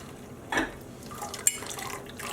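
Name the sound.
water dripping from freshly dyed yarn lifted from the pot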